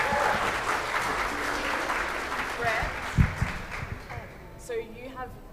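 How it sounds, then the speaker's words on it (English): Audience applause for a string quartet during a live stream, a steady wash of clapping fading toward the end as a few voices begin to talk. "It probably deserves an applause already"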